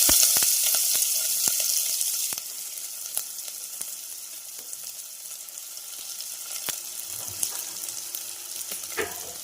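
Chopped onion hits hot oil in a pressure cooker with a loud burst of sizzling that quickly settles into a quieter fry, punctuated by sharp utensil clicks and stirring knocks.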